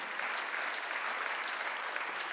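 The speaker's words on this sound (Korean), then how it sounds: "믿으시면 박수 한번 더 해주세요." A church congregation at a Sunday worship service gives a sustained round of applause, dense and even clapping filling the room without a break and no talk over it.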